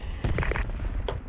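A grenade explosion in Project Reality, a short muffled boom followed by crackling impacts, close and fairly loud.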